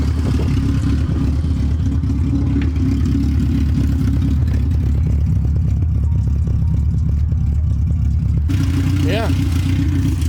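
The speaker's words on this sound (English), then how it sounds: "Got the car started. She rips." Car engine running loud and close just after being started, a rough steady rumble with a few blips of revving, and a person talks briefly near the end.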